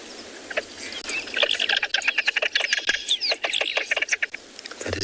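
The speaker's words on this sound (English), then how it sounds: "That is the lesser moorhen call" A lesser moorhen call played softly from a recording at a morning safari in South Africa: a run of quick, bright, clicking chirps and squawky notes, held low in volume over a quiet outdoor background.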